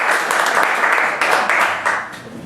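An audience round of applause at a live yegDND Dungeons & Dragons show, steady dense clapping throughout, close and fairly loud, with no one speaking over it.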